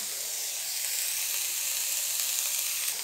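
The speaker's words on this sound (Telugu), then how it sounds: "వీటన్నిటిని కొంచెం లైట్గా ఫ్రై అవ్వాలన్నమాట" Green chillies and chopped tomatoes frying lightly in oil for a homemade batani chaat, giving a steady, close hiss of sizzling that holds even and unbroken for the whole stretch, with no voices.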